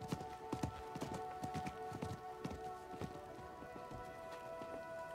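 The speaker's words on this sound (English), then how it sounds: "I think that was the merchant's horse." Rapid hoofbeats of a horse in the Diablo 4 video game, a steady clip-clop rhythm of repeated thuds over a constant low hum, with no other clear sounds.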